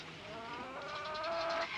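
Hens cluck steadily at close range, several birds overlapping in a busy, rising chatter with no talk.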